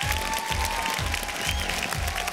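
Audience applause at a televised X-Factor Armenia gala show, a steady dense wash of clapping over a pulsing low music beat throughout.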